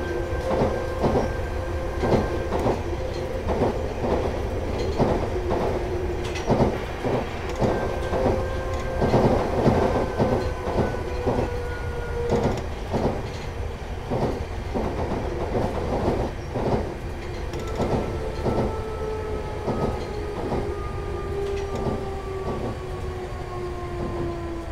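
A BR483 train runs in Train Simulator 2017 with a steady rolling rumble and repeated rhythmic clickety-clack over rail joints, along with faint drawn-out tones from the motors and wheels.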